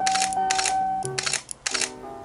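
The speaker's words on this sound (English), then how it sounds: "So the shutter just will go if you press all together" A Fotosniper rifle-style camera rig fires its shutter, giving three sharp mechanical clicks with short whirring gaps between them, close up over a faint steady hum.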